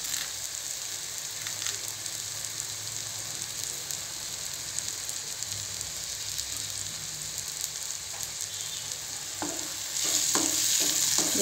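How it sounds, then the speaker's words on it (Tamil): Jackfruit seeds frying in a pan with chili powder, an even close sizzle running throughout, with a few clacks of stirring near the end as the frying grows slightly louder. "மிளகாத்தூள் நல்லா வதக்கி விட்டுக்கலாம்."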